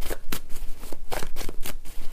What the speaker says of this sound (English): See, shuffling, shuffling these cards, round and around.